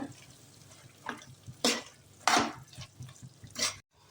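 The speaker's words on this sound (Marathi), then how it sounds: "छान मिक्स करून घेऊया मिक्स करून घेऊया" Spoon scraping and stirring vegetable biryani ingredients in a pan, a few loud broadband scrapes spaced irregularly over quiet kitchen background, close and alone without talk.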